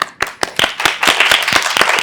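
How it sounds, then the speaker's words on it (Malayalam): An audience clapping to welcome a mentalist on stage, starting as a few sharp separate claps that quickly thicken into brisk, close applause. "ഒരു വലിയ കൈയടി"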